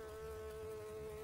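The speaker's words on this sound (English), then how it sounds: "A bee in a box?" A bee trapped inside a box gives a steady, faint droning buzz that holds one even pitch through a short moment, with no voices.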